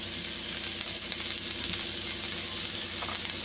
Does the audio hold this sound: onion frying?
yes